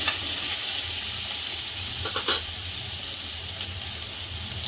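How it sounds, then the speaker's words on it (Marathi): Mustard seeds crackle and sizzle in hot oil with a loud, steady frying hiss close up, broken briefly by a few sharper pops partway through. "राई चांगली तडतडली त्याच्यातच आपण कढीपत्ता टाकूया"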